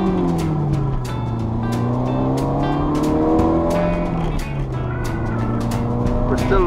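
Classic cars on the London to Brighton Classic Car Run making a U-turn together, several engines idling and revving close by in a continuous rumbling drone with shifting pitches.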